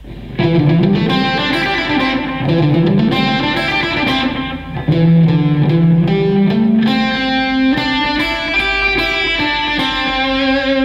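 Loud, distorted electric guitar churns through a fast picked riff, notes shifting up and down in continuous phrases without any speech.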